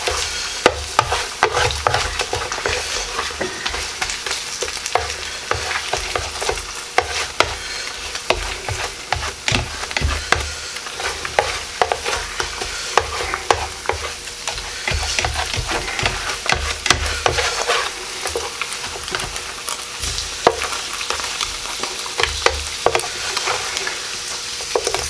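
Honey garlic pork chops fry and get stirred in a pan, a steady crackling sizzle with frequent scraping and clattering strokes throughout, close and moderately loud, no talking.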